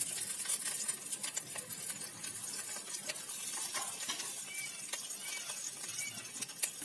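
Chicken tikka pieces are turned over in a hot oiled pan, with a steady crackling sizzle and light scraping taps from utensils against the pan, close and continuous.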